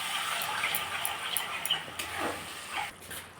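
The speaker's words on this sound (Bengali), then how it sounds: "এবার আমি এতে জলটা দিচ্ছি।" Water pours into a pan of egg curry, a soft steady splashing and trickling with faint sizzling clicks, close and fairly quiet with no voices.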